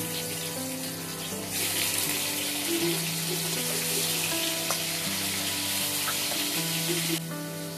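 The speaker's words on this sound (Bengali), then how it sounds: "তেল আমার গরম হয়ে গেছে আমি লবণ হলুদ মেখে রাখা মাছগুলোকে দিয়ে দিব" Khailsha fish, rubbed with salt and turmeric, frying in hot oil in a karai, a steady close sizzle with a continuous musical tone running underneath and no talking.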